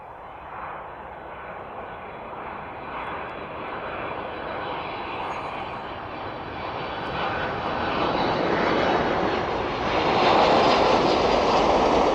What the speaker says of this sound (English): That one very softly touching down into East Midlands.